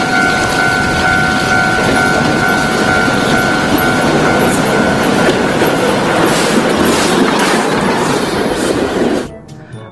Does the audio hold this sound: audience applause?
no